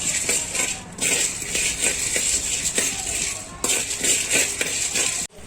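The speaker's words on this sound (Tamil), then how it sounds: "அடுத்து கடலைப்பருப்பு வறுக்கலாம்." Chana dal dry roasted in a pan for curry masala powder, with a steady dry rattling and scraping of lentils against metal, continuous and fairly loud with brief pauses, no talk.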